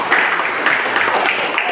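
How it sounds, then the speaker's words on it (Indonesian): Students clapping in a classroom during a civics lesson: a steady, fairly loud wash of hand claps for under two seconds, with no distinct voices over it. "Tepuk tangan."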